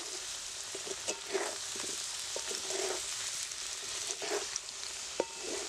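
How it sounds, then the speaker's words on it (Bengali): Potato pieces fry in a pan for a vegetarian aloo dum, making a soft, continuous sizzle with a few light clinks and taps from turning them, and no talking. "আলুটা আমার প্রায় লাল লাল করে ভাজা হয়ে গেছে"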